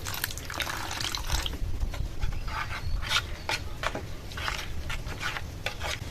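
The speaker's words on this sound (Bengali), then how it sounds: "এবার এর মধ্যে আরেকটু জল দিয়ে মিশিয়ে হালকা করে নেব।" A spoon stirs a thick semolina batter with added water in a bowl, making close, repeated wet scraping and swishing strokes in an irregular rhythm.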